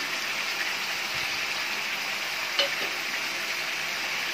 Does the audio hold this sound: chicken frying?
yes